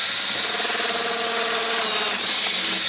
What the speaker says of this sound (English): so now I'm going to go ahead and drill the other 3 holes